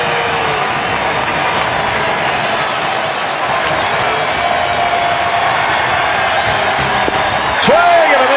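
Baseball crowd at an Oakland A's game in the ninth inning, a steady roar of cheering and applause from a large stadium audience, rising slightly at the end with a sharp whistle.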